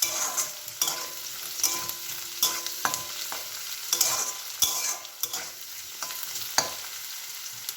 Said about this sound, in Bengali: সব একটু তেলে ভেজে নিয়ে, হালকা করে ভেজে নিয়ে তারপরে মিক্সারে পেস্ট করব